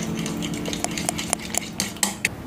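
Egg mixture with ginger-garlic paste for cauliflower egg 65 is beaten briskly in a bowl, giving rapid metallic clinks and taps of a utensil against the bowl over a continuous swishing.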